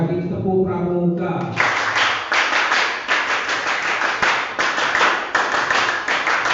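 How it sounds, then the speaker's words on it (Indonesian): Pramuka scout clap pattern performed twice by a classroom group: after a brief lead-in voice, a crowd of hands claps loud and close in quick rhythmic bursts, steady and dense through the rest. "Dua kali tepuk pramuka."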